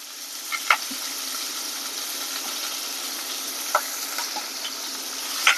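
Onions and curry leaves sauté in oil in a pan, giving a constant close hiss of frying with occasional faint scrapes and clinks of a spoon, and no talking.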